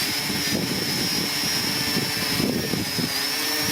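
A Parrot Anafi drone hovers close by as it comes in for a hand landing, its steady high-pitched rotor whine constant and fairly loud throughout, with a sharp tonal buzz over broadband propeller wash.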